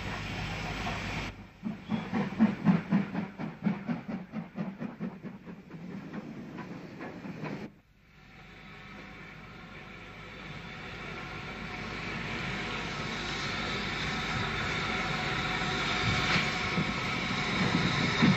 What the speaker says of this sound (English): the train returns with the final service